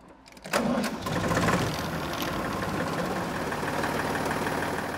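A three-cylinder Deutz tractor engine starts up and settles into a steady, chugging idle close by, with a brief clatter at the start.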